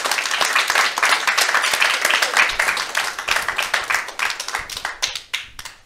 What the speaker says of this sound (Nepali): please give a big round of applause for Divas Karki,